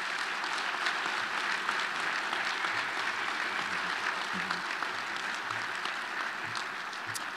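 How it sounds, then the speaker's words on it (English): A crowd at a military change of command ceremony in Reno gives a sustained round of applause, thick steady clapping holding at one level throughout, with faint low murmurs beneath. "Can we give him a big round of applause?"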